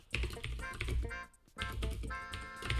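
Rapid typing on a computer keyboard, a dense run of quick clacking keystrokes close to the mic with a brief pause midway, no voices.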